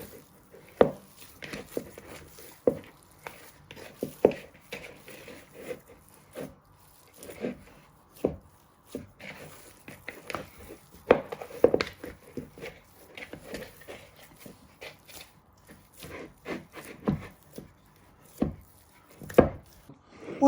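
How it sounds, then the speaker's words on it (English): Knuckles break up a char siu pork burger mix, giving soft irregular squishing and thudding presses that repeat close by at a quiet level, with no talking. "you just want to keep breaking it all together at the back of the knuckles"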